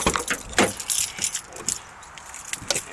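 Car keys jangle in the hand beside a parked car, a run of bright metallic clinks and rattles coming in uneven bursts over a few seconds, close but fairly soft, with no talking.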